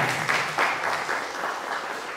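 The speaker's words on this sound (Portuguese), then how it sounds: "Eu pedi uma salva de palmas" An audience at a university law week event in Arapiraca, Brazil, applauds steadily with brisk, overlapping claps at moderate loudness throughout.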